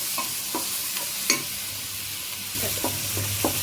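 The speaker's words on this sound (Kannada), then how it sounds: "ನೆಕ್ಸ್ಟು ಕರಿಬೇವು ಚೆನ್ನಾಗಿ ಫ್ರೈ ಆಗಲಿ" Curry leaves and onion fry in a pan under a constant loud sizzle, with a spoon scraping and tapping the metal in irregular strokes as it stirs them.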